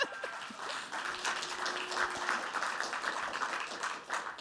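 Audience applause fills a faculty award ceremony hall as a steady, moderately distant wash of clapping.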